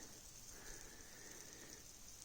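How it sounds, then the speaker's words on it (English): Freezing rain falls steadily in a cold wilderness camp, a faint, continuous hiss and patter of drops on surfaces with no break throughout. "we have lots of freezing rain"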